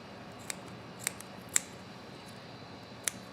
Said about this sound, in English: Then we can take our scissors again